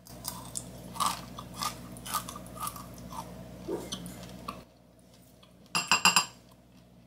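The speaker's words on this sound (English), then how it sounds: "Really good crunch and chew to it." Homemade crunchy cereal being chewed up close, a series of soft crunching bites for several seconds, then a short pause and a sharp cluster of louder crisp crunches near the end, with faint clinks like a spoon against a dish.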